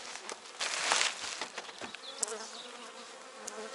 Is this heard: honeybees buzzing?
yes